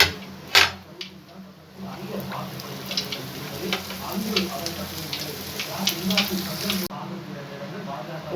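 Maida sweet dough frying in a pan of hot oil gives a steady, soft sizzle with small crackles and one sharp clink near the start.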